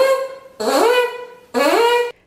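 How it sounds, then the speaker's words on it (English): Two buzzy, nasal brass-player lip-buzz tones into a mouthpiece, each starting low and sliding up to a steady pitch, separated by a short gap, close and fairly loud. "The buzzing on its own sounds like this."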